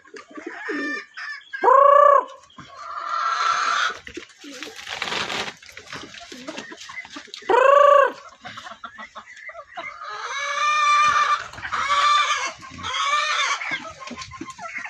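Red junglefowl roosters and hens near a river, with two loud, close rooster crows several seconds apart amid ongoing clucking and bird calls, and brief human voices in between.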